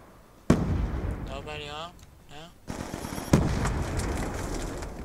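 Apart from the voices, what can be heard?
grenade explosion in the video game Call of Duty Black Ops 2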